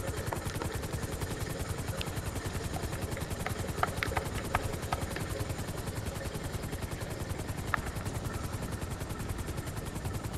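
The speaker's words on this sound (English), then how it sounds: "where is even the helicopter?" Rapid rhythmic chopping of a helicopter rotor in the video game GTA V, steady and continuous, with faint sharp clicks and pops scattered over it.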